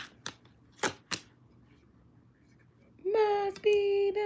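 A deck of cards shuffled during a tarot reading: a few quick, crisp bursts of cards riffling and snapping close by, then a steadier tonal sound takes over near the end.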